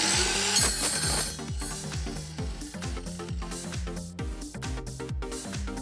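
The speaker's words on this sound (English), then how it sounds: "I adjust the length of the ball screw using a cut-off saw" A cut-off saw cuts through a steel ball screw shaft with a rhythmic back-and-forth rasp of quick, regular strokes, close and steady, with no voices.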